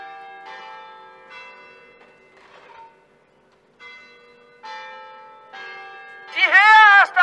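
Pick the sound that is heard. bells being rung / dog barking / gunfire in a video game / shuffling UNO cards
bells being rung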